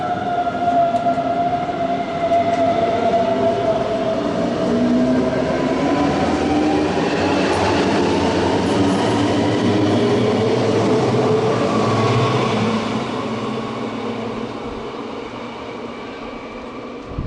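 Trains rumbling into München Hauptbahnhof, a steady loud rolling roar with rising and falling tonal whine from traction motors and faint rail clatter, fading slightly toward the end.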